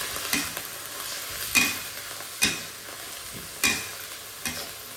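Noodle soup ingredients stirred in a pot, with several distinct scraping clinks of a utensil against the pot at irregular intervals over a soft steady background, close and moderately loud, with no talking.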